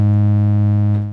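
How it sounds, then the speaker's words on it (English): Very short looped bass sample cutting in and out so fast it takes on a buzzy, saw-wave-like synth tone: one sustained, steady, loud note with no talking. "the section I'm looping is so small that you just constantly hear it cutting in and cutting out"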